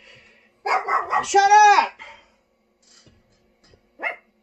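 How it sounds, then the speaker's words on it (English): Several dogs bark close by, a quick loud burst of barking overlapping someone shouting, then near silence with one more brief yelp. "Hell living with a bunch of dogs."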